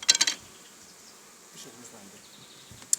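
Honeybees buzz close by, loud at first in a short cluster, then a faint steady hum with another brief buzz passing near the end.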